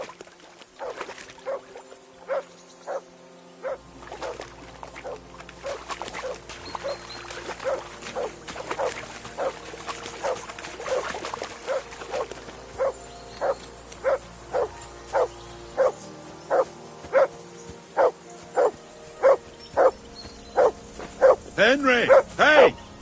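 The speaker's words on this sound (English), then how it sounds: "Call off that mutt of yours!" Dog barking in the video game Kingdom Come: Deliverance II, a long run of sharp, evenly spaced barks over a low game-music drone, growing a little louder toward the end.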